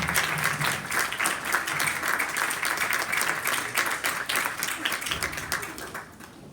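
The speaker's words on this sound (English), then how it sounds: "Please let's give a round of applause to the choir leaders." An audience applauds choir leaders at a school gathering celebrating Connecticut's Kid Governor election, steady dense clapping sustained throughout before thinning slightly at the end.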